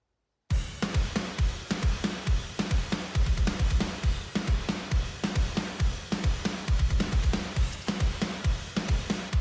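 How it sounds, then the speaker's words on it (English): A programmed drum track plays alone, with punchy kicks and snappy hits in a steady, driving rhythm that repeats evenly from start to finish without any other instruments. "the drums alone sound like this"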